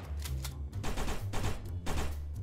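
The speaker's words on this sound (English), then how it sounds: "Fucking sentry gun, mate." Rapid bursts of automatic fire from a sentry gun in a bank-heist video game, several close, harsh volleys with short gaps between them.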